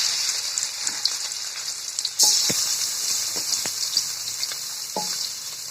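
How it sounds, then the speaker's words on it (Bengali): Freshwater fish from a wetland sizzles steadily in hot oil, a constant bright crackle with a few sharp taps and scrapes of a utensil against the pan. "আমাদের দ্বিতীয় পর্যায়ের অর্থাৎ শেষ পর্যায়ের মাছ ভাজা চলছে।"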